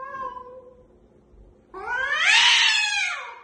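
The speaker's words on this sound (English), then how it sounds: "She was screaming at the neighbor cat" A female house cat gives a short low meow, then breaks into a loud, rising, wavering caterwaul aimed at a neighboring cat, close and alone.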